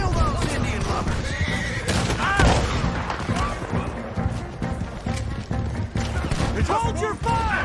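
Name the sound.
horse neighing in video game Red Dead Redemption 2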